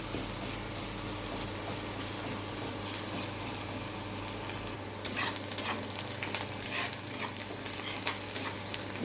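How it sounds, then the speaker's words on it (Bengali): Onions fry in oil after a black cumin tempering, a faint steady sizzle with scraping stirs and clatter growing busier in the second half. "এবার পেঁয়াজগুলো দিয়ে দেবো। লাল লাল করে ভেজে নেব।"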